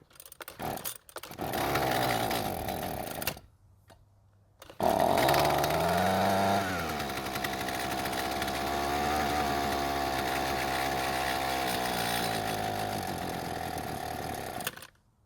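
Husqvarna string trimmer engine with its air filter removed, running loud and buzzing, dying out briefly near the start, restarting and revving unevenly before cutting out at the end.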